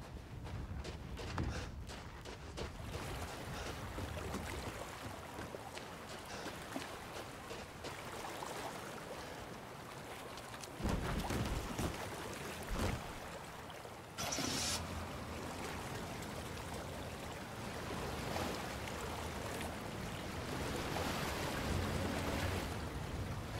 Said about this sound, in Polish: I wracamy, słuchajcie, łódką.